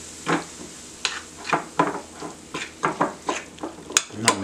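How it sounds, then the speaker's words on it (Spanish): Dried chile ancho sizzles in hot olive oil for salsa macha while being stirred, with a regular series of scraping strokes over a low crackling fry, close and alone without voices. "Y vamos a mezclar bien para que todo alcance aceite de olivo"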